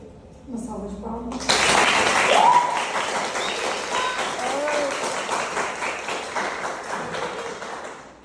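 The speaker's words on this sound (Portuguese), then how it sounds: "Uma salva de palmas." An audience breaks into applause after a thesis defense presentation on amplifying the beta-casein A1/A2 locus; clapping starts abruptly and continues steadily, with a brief voice heard just before it begins.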